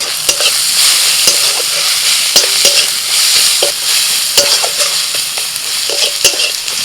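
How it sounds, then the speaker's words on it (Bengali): Ground spices — coriander, cumin, turmeric, red chilli, black pepper and garam masala — frying in a pan for an egg cutlet filling, a loud steady sizzle broken by repeated scraping stirs of a spatula, with no talking. "ভালো করে মশলাটা ভেজে নিয়ে"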